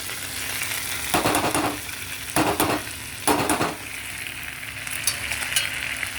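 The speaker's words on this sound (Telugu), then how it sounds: "బాగా ఆయిల్ పొడుతుంది, వాటర్ ఉన్నట్టుంది." Oil spits and splutters in a frying pan, apparently with water in it, rising into three loud crackling bursts over a steady background sizzle.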